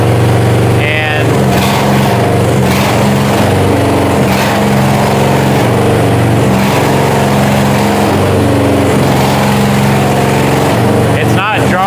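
A Chinese mini excavator's engine runs steadily at a little over half throttle, a loud, continuous droning hum with stable harmonics, with a person talking over it throughout.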